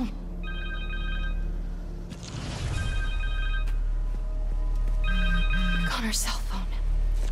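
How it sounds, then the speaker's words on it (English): A cell phone rings repeatedly during a story mission of the video game Marvel's Spider-Man 2: bursts of electronic ringtone tones come and go over game music, ambient noise and some vocal sounds, fairly loud and close. "Connor's cell phone."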